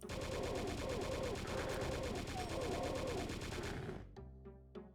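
Chaingunner gunfire in Doom 2 TNT: Evilution: a loud, dense stream of rapid retro shots that stops abruptly and leaves a few scattered, echoing shots afterward.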